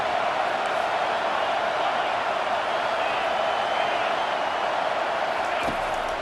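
Stadium crowd in the EA College Football video game, a constant loud roar from a packed home crowd trying to pin the opposing team deep in its own end, steady throughout with little variation.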